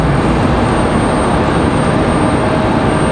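An American Airlines jet departing Raleigh-Durham airport roars loudly and continuously, a broad, steady engine rumble with no voices over it.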